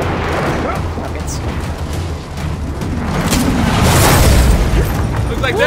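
Heavy booming rocket explosions roll through a loud battle in the video game Gears of War 4, deep rumbling blasts swelling and overlapping beneath continuous game noise, with voices talking over them.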